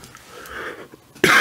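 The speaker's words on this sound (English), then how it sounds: "I do not know why I'm coughing." A single close person's cough, a short throaty burst with a sharp loud onset at the end, preceded by quiet breathy throat noise.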